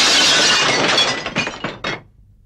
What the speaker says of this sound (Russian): Зеркало разбилось.